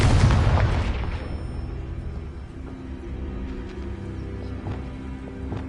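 A Confringo blasting spell from a Harry Potter video game detonates in one loud, booming explosion at the start, then fades into a lingering rumble with faint scattered game sounds.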